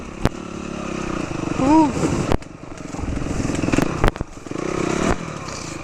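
A dirt bike engine revs and drones while riding a hilly trail in Hawaii, pitch rising and falling with throttle, with knocks and clatter from rough ground and a rider's brief shout.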